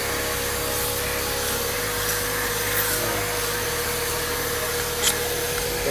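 A Bissell MultiClean spot and stain cleaner runs as a steady, loud vacuum whine and suction hiss, its low hum shifting pitch slightly every couple of seconds as it works over a stained surface.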